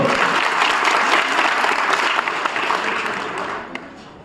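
A village crowd in Bhopani gives loud, dense applause for a visiting central minister, a sustained clapping roar close by that slowly fades with a few last claps.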